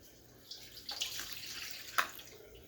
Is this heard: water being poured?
yes